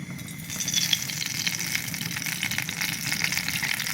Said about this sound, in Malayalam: ഇനി നമുക്ക് വെളിച്ചെണ്ണ അങ്ങോട്ട് ഒഴിച്ചു കൊടുക്കാം